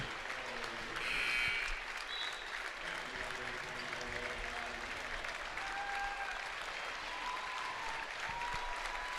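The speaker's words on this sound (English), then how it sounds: "Crowd, well-deserved round of applause." Fans applaud at a high school football game between Freedom and Wrightstown as the final minute winds down. The clapping is steady and moderately distant, swells briefly early on, and continues without voices.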